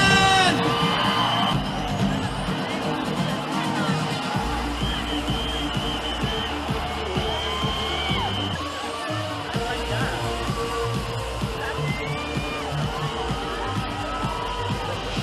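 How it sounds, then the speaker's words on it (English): A large audience at a beauty pageant cheers, whoops and yells for the first runner-up, a loud, sustained roar of voices with applause mixed in. "can we please give a round of applause for our first runner-up, Miss Thailand!"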